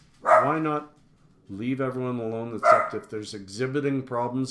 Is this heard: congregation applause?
no